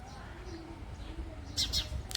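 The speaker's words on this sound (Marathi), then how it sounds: "चिमणी काहीतरी सांगते बा" Small bird chirping near a little roadside temple by a well, a few brief high tweets late in the clip over faint background murmur and low ambient noise.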